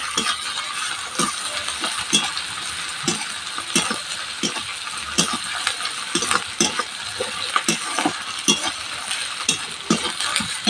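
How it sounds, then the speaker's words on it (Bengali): Garlic, ginger paste and onion sauté in a pan, with continuous close sizzling broken by rhythmic scraping stirs about every half second. "রসুন আদা পেঁয়াজ ভালোভাবে কষানো হয়ে গেছে"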